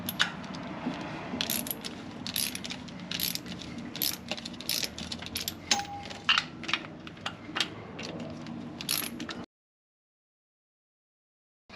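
A ratchet works exhaust manifold studs loose on a surplus Humvee's 6.5L diesel, giving close rapid clicking bursts in uneven runs with brief pauses, then silence for the last couple of seconds.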